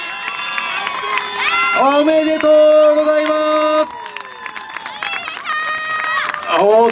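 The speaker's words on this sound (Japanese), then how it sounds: "大きな声援拍手ありがとうございました。" A crowd cheers and claps loudly at an outdoor trial motorcycle awards ceremony in Tohoku, the applause swelling around a congratulating voice over a PA with background music.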